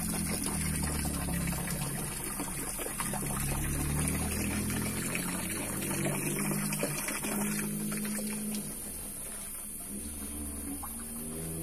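Spring water pouring and trickling steadily into a bucket at an outdoor spring, a continuous close splashing flow with no talk.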